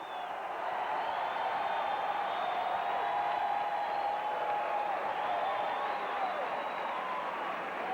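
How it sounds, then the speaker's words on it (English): A basketball crowd at a 1985 NCAA quarterfinal between SEMO and Jacksonville State roars during a timeout, a steady, dense wall of cheering and clapping that holds at the same loud level throughout. "Listen to the crowd."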